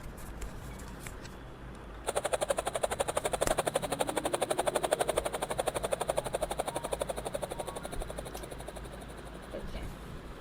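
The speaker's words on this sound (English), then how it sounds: "in this page there's a helicopter sound. There's a helicopter here" A helicopter sound effect plays from a children's sound book: fast, steady rotor chopping starts abruptly and continues for several seconds before fading slightly, with no talking over it.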